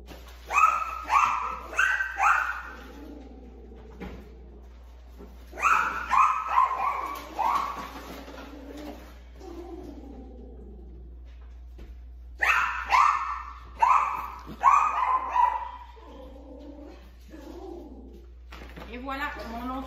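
A dog barks in repeated bursts of several sharp, fairly loud yaps, pausing between volleys, with a voice talking nearby indoors.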